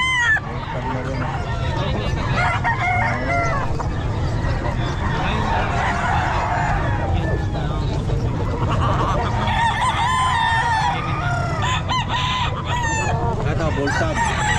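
A full stag rooster crows repeatedly at a busy pet market, with clucking fowl around it and people talking throughout the noisy scene.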